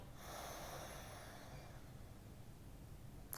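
A close, soft nasal exhale during alternate nostril yoga breathing, a long airy breath through the nose that fades gradually, heard alone.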